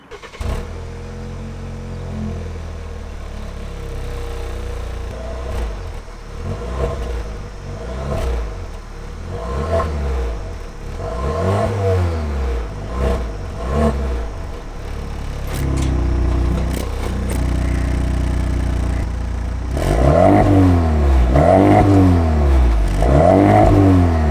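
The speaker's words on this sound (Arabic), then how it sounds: "الحين بسمعكم صوت السيارة خاصة في الداون شيفت أو لما ترجع غيار" A turbocharged 2.0-litre GAC Emkoo engine revs repeatedly, its pitch climbing and dropping with throaty burbles, growing louder and more aggressive toward the end.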